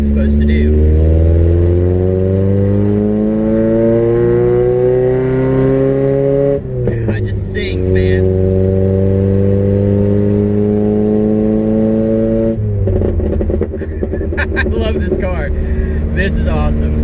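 A Toyota Corolla's engine revs up through the gears while driving, rising in pitch, dropping at each shift, loud and close inside the cabin.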